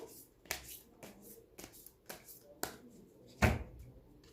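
Oracle cards from a moonology deck being shuffled by hand, a run of crisp riffling flicks about every half second, with one louder slap near the end; close and fairly quiet, with no talking.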